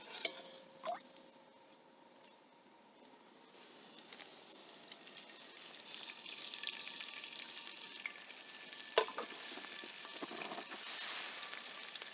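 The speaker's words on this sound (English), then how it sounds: "when your garlic starts sizzling" Garlic sizzles and fries in a pan over a burner for pasta all'assassina, a steady faint crackle that builds gradually, with a few soft clinks and stirring scrapes along the way.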